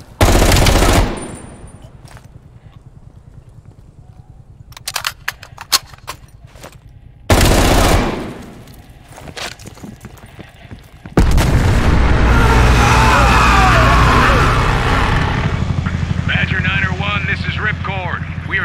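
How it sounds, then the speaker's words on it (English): Heavy automatic gunfire and explosions from the Call of Duty Black Ops Cold War video game, loud bursts at the start and middle, then a sustained dense barrage with booms under radio chatter and shouted voices. "still under heavy fire."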